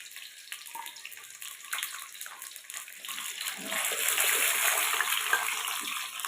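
Fish heads marinated overnight in garlic, ginger and salt frying in oil in a pan, a steady close hiss and sizzle with crackling that grows louder and denser toward the end.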